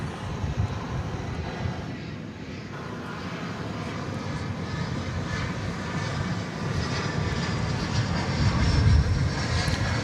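A Boeing 787 Dreamliner jet at DFW airport rumbles steadily on the runway, a broad continuous engine roar that swells slightly toward the end, heard from a distance with no talk.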